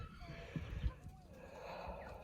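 A horse named Rusty whinnies on a homestead farm: a thin, wavering call rises and falls twice amid faint low thumps and shuffling, with steady background noise and no talk.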